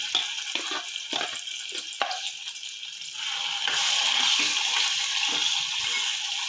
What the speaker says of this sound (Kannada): ಈ ಎಣ್ಣೆ ಕಾದ ನಂತರ ಈ ಮಿಶ್ರಣವನ್ನು ಮಿಕ್ಸಿ ಮಾಡಿದ್ದನ್ನು ಇದಕ್ಕೆ ಹಾಕಿ ಚೆನ್ನಾಗಿ ಹುರಿಯೋಣ